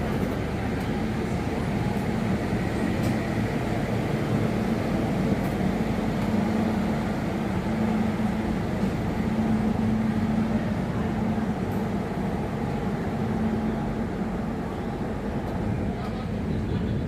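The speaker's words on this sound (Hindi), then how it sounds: "तो चलिए अभी हमारा डिपार्चर हो रहा है बिलासपुर जंक्शन रेलवे स्टेशन से" Interior of the 12262 Howrah–Mumbai CSMT Duranto Express pulling out of Bilaspur Junction: a steady, continuous rolling rumble and low mechanical drone that holds evenly throughout, with no voices.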